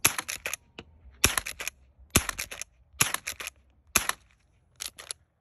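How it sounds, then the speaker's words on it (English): Shots from a Marlin Model 1897 .22 rifle fired outdoors at a kitchen set, coming as sharp cracks in quick clusters of three or four, each burst separated by short pauses, fairly close and loud with no talking. "These little 22s don't do too much. See if we can put a few rounds on that"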